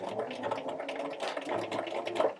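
Sewing machine running a back stitch along the edge of tiny doll clothes, a steady close whirring hum with rapid stitching rhythm throughout, no talk.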